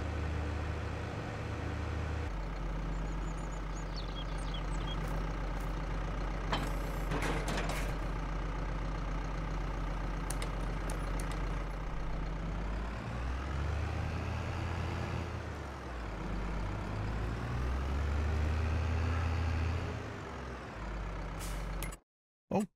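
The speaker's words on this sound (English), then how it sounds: "What is this, a Valtra? A spunky little tractor." Valtra tractor engine in the Farming Simulator 22 video game, a steady low drone that shifts in pitch as it works, with brief hissing and clicking sounds partway through before cutting off abruptly.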